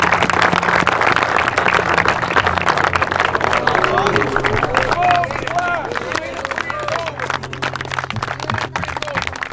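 A crowd applauds and cheers for the champion of an outdoor football kicking, punting and snapping competition, steady clapping and voices filling the whole stretch at moderate loudness, with a few higher calls rising over the noise.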